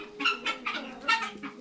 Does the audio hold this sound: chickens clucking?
yes